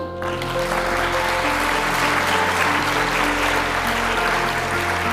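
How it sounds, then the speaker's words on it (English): A large audience claps steadily at an education prize award ceremony, giving loud, sustained applause for several seconds with a low steady hum underneath. "Let's give them a warm round of applause once again."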